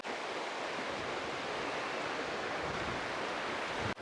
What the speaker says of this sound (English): we'll have a look here at the river